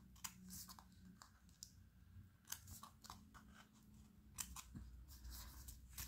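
Scissors snipping through a sticker pouch sealed with washi tape, a series of crisp, close cuts and clicks in quick irregular bursts with no voices.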